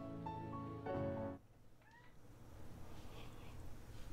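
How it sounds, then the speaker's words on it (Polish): A house cat meows from behind a door, two or three calls heard in the first moments, partly masked by a steady hum and background noise that continues afterward. "Słyszycie kota?"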